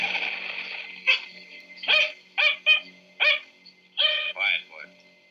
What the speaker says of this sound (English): So we hear howling of dogs,